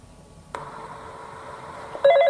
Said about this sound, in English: And we get a phone call.